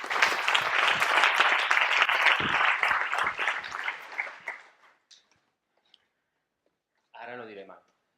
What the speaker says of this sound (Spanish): Un aplauso para este asistente tan guapo que tenéis.